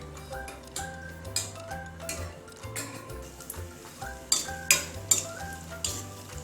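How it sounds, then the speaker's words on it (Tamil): Ten to fifteen cashew nuts sauté in a pan for rava kesari, a soft sizzle under frequent ticking and scraping strokes of a spoon against the metal, close and fairly quiet. "இந்த முந்திரி பருப்பு பொன்னிறமாக வர்ற வரையா வதக்கிட்டே இருக்கணும்."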